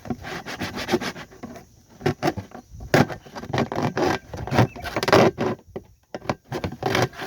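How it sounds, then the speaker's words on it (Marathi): Material is sawn by hand to build a homemade mango picker from scrap items: steady, close rhythmic scraping strokes of a saw, rising and falling in quick succession without pause. "अशा पद्धतीने कापून घ्यायचं आहे लवकर कापत नाही"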